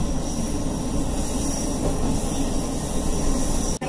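A local train on a rural mountain line in Gunma rolls along the rails with a steady, close, broadband rumble and clatter that holds throughout, dipping sharply for a moment just before the end.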